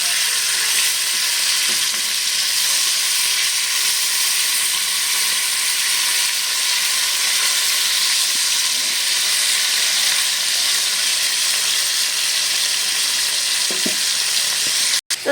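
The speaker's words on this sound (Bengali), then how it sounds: "মাছগুলো দেখো ভাজা হয়ে গেছে" Hilsa fish pieces frying in a pan, a loud, close, unbroken sizzle and crackle of hot oil that carries on steadily throughout, with no talking.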